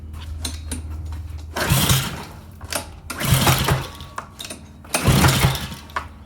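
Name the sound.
Honda 5.0 HP power washer engine starting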